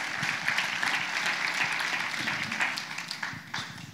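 A church congregation applauding during a sermon, a dense, steady wash of clapping from many hands that fills the whole stretch and thins slightly toward the end.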